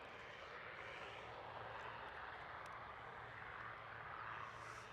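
An ATR turboprop airliner on its takeoff roll at Edinburgh Airport gives a distant, faint, steady engine roar that holds evenly throughout with no other sounds.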